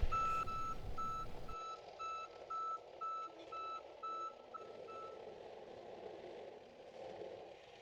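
A small rented skid steer loader, working while a trailer is loaded, gives off evenly spaced high electronic reversing beeps over a low engine hum. After a short burst of rumble at the start, the beeps carry on at a steady rhythm at moderate distance.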